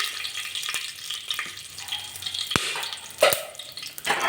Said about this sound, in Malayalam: അതിലേക്ക് ഞാൻ ചെറിയ പീസ് പട്ട, 3-4 ഗ്രാമ്പു, 2-3 ഏലക്കായ ലോ ഫ്ലെയിമിൽ മാറ്റി കൊടുക്കണം